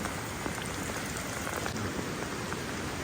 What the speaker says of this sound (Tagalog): Ulan-ulan pa rin.